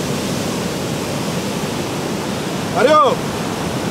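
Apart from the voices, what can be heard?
sea waves at the beach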